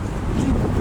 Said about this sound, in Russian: Ветер такой ледяной вообще.